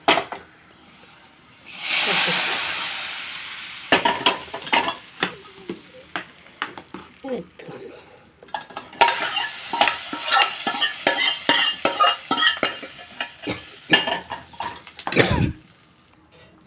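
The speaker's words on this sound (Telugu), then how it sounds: "పప్పు తాలింపు వేసాను ఇదిగోండి పప్పు తాలింపు వేసాను కదండి" A dal tempering with asafoetida fries in a pot while a metal spoon stirs and scrapes it, producing a dense run of clinks and scratches over bursts of loud sizzling.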